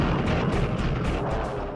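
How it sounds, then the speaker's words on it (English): Vulcan multi-barrel Gatling cannon on an A-10 aircraft roaring in a dense, continuous burst of fire, loud and harsh throughout with no gaps. "the old technology, the multiple barrel Gatling gun, has been reintroduced and reborn as the Vulcan cannon"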